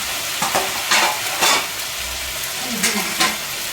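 Food fries in a kadai, a steady sizzle broken by repeated bursts of louder hissing and stirring, each lasting under a second.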